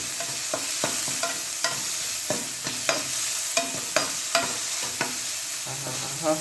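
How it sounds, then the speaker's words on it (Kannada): Tomato roasting and being stirred in a hot pan while cooking uppittu: a steady sizzle runs throughout, broken by repeated scraping stirs at an uneven rhythm, close and fairly loud. "ಟೊಮೊಟೊ ಹಾಕ್ಬಿಟ್ಟು ಅದನ್ನು ಸ್ವಲ್ಪ ರೋಸ್ಟ್ ಮಾಡಿ"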